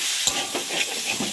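Pointed gourd and shrimp get stirred in a hot pan, a steady sizzle broken by several quick scraping strokes of the spoon, close up.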